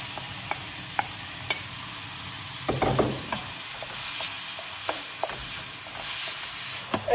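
Porcini mushrooms, peas and prosciutto sizzle in a pan over high heat, a soft steady frying hiss punctuated by scattered clicks and scrapes of stirring, with a brief busier burst of stirring near the middle.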